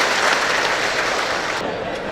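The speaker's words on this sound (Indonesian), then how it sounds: "tepuk tangan semuanya." An audience at a public dialogue event with Indonesia's vice president claps in dense, sustained applause that fills the space and tapers slightly near the end.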